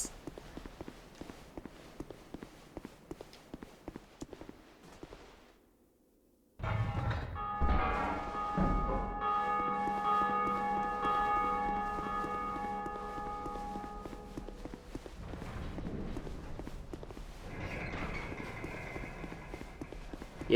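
Bell tower ringing in Dark Souls 2: Scholar of the First Sin, Belfry Luna, a loud sustained metallic peal with layered ringing overtones that starts abruptly after a brief silence and continues, swelling again near the end, over earlier footstep-like thuds.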